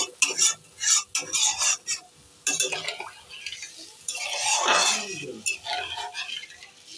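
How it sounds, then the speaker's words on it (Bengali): Water splashing into a pan of fried spice paste for a fish curry, followed by steady stirring with a utensil scraping and clinking against the pan, close and fairly loud, with a light sizzle and no talk. "এবার জল দিয়ে দেবো অল্প করে জল দেবো"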